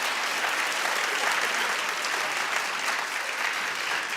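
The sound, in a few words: audience clapping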